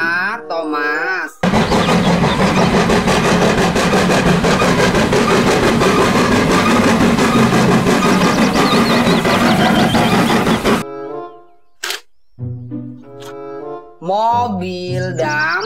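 A toy Thomas train engine runs with a loud, steady mechanical whirring and rattling for about nine seconds, framed by brief talk before and after.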